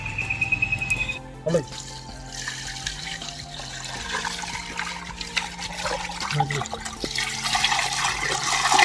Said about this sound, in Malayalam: ഇത് നന്നായിട്ടൊന്ന് കഴുകി വൃത്തിയാക്കി എടുക്കണം